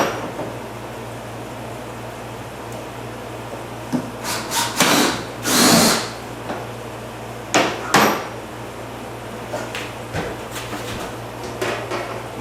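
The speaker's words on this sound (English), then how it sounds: "You want to drill a 7/16 hole dead center of this lid." A power drill with a 7/16-inch bit hums steadily while bursts of harsh grinding and cracking break through as it cuts into a plastic bucket lid, ending in scattered clicks.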